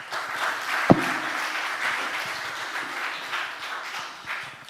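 A Korean church congregation gives a short burst of applause as the pastor comes forward, a soft, steady patter of hands in a hall, opened by one sharp knock.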